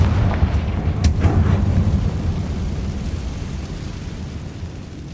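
A Confringo explosion spell in Hogwarts Legacy: a loud, deep booming blast, with sharp cracks near the start and a rumbling roar that fades slowly, with no talking.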